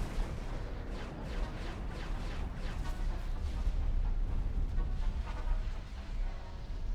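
Space station in X4 Foundations blowing apart under fire, a dense, continuous rumble of booming blasts and crackling detonations that stays loud and steady throughout, with no speech over it.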